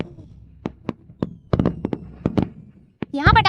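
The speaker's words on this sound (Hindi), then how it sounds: "यहाँ पटाखे कौन छोड़ रहा है?" Firecrackers set off from a rooftop for a birthday, a string of sharp separate bangs at uneven intervals, fairly close, followed at the end by a voice.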